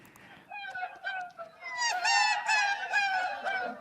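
A tape-stretched, warbling human voice imitating seagulls in a Beatles recording, rising wavering cries repeating over several seconds, loud and alone.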